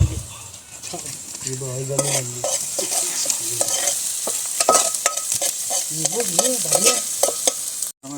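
Chopped onions sizzling and frying with masala in a pan, steady crackle under repeated scraping stirs, close and fairly loud, with a voice speaking briefly in the background.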